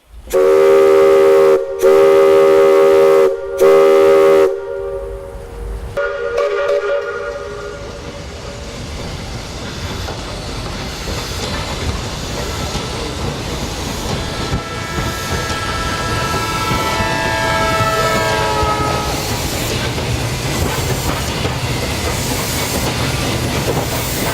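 A 1927 steam locomotive at the Museu da Imigração blows its loud whistle in three long blasts, then rumbles and hisses steadily as the train rolls along, growing slightly louder.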